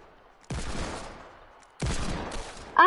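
Gunfire from a first-person shooter video game comes in two loud, dense bursts of rapid shots, each trailing off, followed by a short sharp electronic tone at the end, with no talking.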